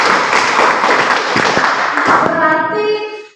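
A group of students claps for a classmate group in a classroom, a dense burst of applause that fades out near the end.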